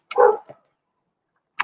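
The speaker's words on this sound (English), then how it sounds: "you guys hear a dog barking, it's my neighbors behind me" A neighbor's dog barks behind the house during a Memorial Day weekend gathering: a single close bark and a short follow-up yip, a pause of about a second, then the start of another bark.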